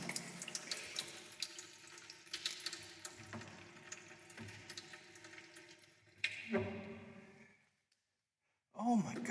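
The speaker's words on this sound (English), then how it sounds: "They still got water hooked up to this place." Water gushes from a tap in an abandoned school, a continuous splashing hiss that cuts off and briefly restarts, with a person talking and sighing nearby.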